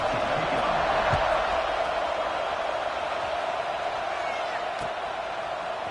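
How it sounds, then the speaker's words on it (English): A simulated stadium crowd in the college football video game NCAA 26, at an Auburn versus LSU game, gives off a steady, distant roar. The wash of noise stays level with a couple of faint thuds. "this crowd is buzzing after that last score"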